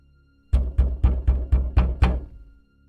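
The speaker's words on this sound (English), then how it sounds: "The knocking began again at another window." Seven sharp knocks on a window fall in quick, even succession, loud and close, then stop and leave silence.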